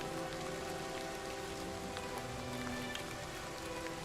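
Steady rain pattering on surfaces in the wilderness of the video game Oblivion, a dense continuous hiss with scattered sharper drops, alone and unbroken.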